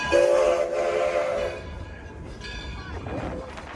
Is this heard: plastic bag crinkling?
no